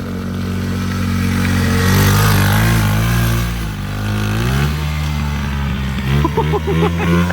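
A small engine mounted on a shopping cart revs loudly and close by, its pitch rising and falling with rattling clatter as it winds up and down.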